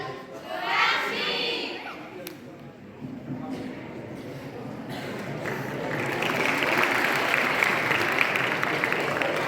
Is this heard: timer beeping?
no